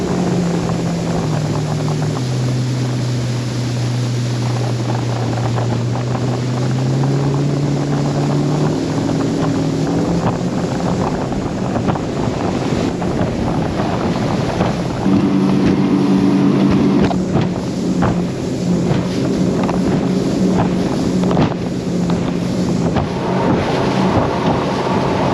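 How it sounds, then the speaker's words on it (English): An Excel Bay Pro boat powers across a choppy bay into a headwind, with a steady loud engine drone, wind buffeting and water slapping the hull, and the engine pitch shifting as it runs. "that was a couple quick clips of the boat running across the bay"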